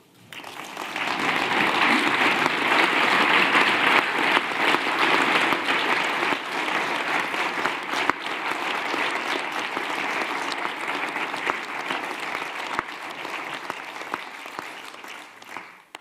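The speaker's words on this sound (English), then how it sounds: "I hope that you understand that the applause that you received at the end" Sustained applause from a seated audience at an EU Council winter meeting after a speech by the German foreign minister, a dense steady roar of clapping lasting about fifteen seconds before tapering off.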